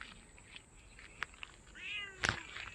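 A stray street cat meows several times, short calls ending in a louder, drawn-out meow, heard fairly close against quiet outdoor background noise.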